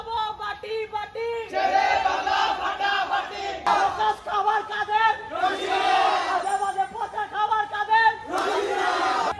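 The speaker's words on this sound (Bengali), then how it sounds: "শো ডাউন দিচ্ছি, স্লোগান দিচ্ছি সবগুলো হলের অপোজিটে" Crowd of BUET students chanting slogans in loud rhythmic bursts during a cow festival procession between residence halls, shouts rising and falling in waves with brief lulls between.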